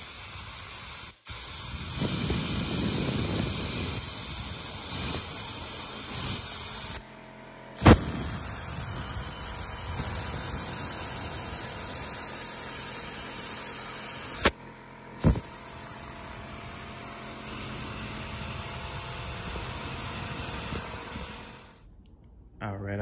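Compressed air hisses in bursts through carburetor jets and passages on a 2002 Raptor 660 during a carb clean. There are several long, close blasts separated by short pauses, and a voice is heard faintly in the background.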